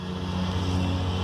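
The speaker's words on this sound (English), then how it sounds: "Sorry for the lawnmower in the background if you can hear that." Lawnmower engine droning steadily at a distance, a continuous low hum that stays even throughout the brief moment with no talk over it.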